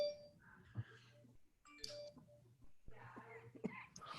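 A mobile phone rings in a room during a lecture, its electronic ringtone sounding in short tonal bursts that start and stop several times, with faint voices nearby.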